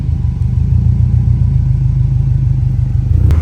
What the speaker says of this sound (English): All right, so doing the first test drive here, and everything looks awesome.